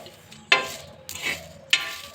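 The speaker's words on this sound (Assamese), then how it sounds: "ধুনীয়াকৈ অকণমান ভাজি ল'ম এটা গন্ধ ওলোৱালৈকে মছলাখিনি" Whole spices, panch phoron, cumin, dry chili and bay leaf, fry in hot oil for mango pickle, with a soft sizzle broken by three sharp stirring scrapes and clatters at regular intervals.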